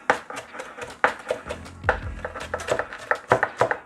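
A knife repeatedly chops food on a cutting board while making quiche, uneven fast knocks and taps in quick succession, fairly close.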